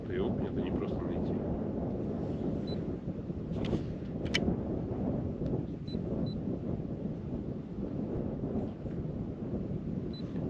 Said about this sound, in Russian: Ветер очень холодный, сильный холодный.